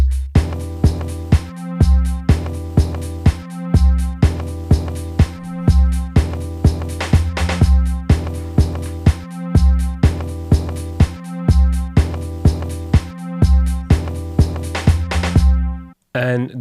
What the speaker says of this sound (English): the full track beat sounds like this.